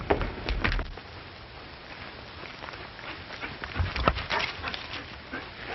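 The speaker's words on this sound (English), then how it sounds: "Oh, so this is your friend's dog." A dog whimpers and barks in a 1937 western film scene. The yelps and whines are muffled and close, set in a heavy, hissy, low-fidelity background.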